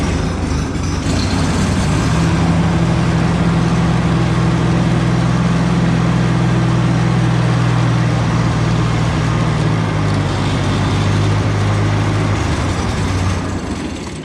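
An International 154 tractor engine runs under a little throttle, a loud, steady low drone close by that holds for most of the stretch before easing off near the end.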